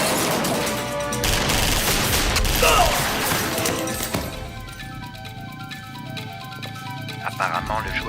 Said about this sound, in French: d'où est-ce qu'ils viennent, ces coups de feu?